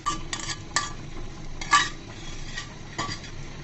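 A beaten egg fries in a little oil in a pan, a light sizzle under scattered utensil scrapes and metallic clinks against the pan, close and moderately quiet.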